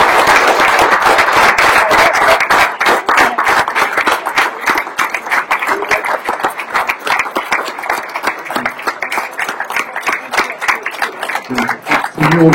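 A seated audience at a local football club's annual meeting in Ruffiac-Malestroit gives its referees a long round of steady applause, dense and sustained throughout, with scattered individual claps standing out near the end.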